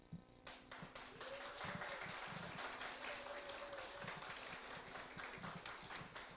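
A church congregation claps at a Sunday afternoon service to welcome a pastor to the pulpit, a sustained round of fairly quiet applause with distinct individual claps and a faint voice underneath.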